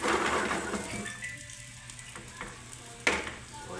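Spicy pork binagoongan is stirred in a pan: a frying sizzle that fades, with scraping stirs and a sharp clank near the end.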